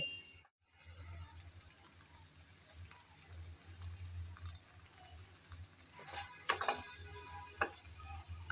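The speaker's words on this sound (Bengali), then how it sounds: "আর নেড়েচেড়ে ভালোভাবে মিশিয়ে নিচ্ছি" Food being stirred in a cooking pot over heat, a faint soft sizzle with occasional scraping clicks of the spoon, brighter clattering stirs toward the end, no talking.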